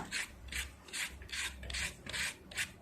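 Peeled mango being shredded into strands on a papaya grater, a soft rhythmic rasping scrape repeating roughly every half second, close and quiet with no talking.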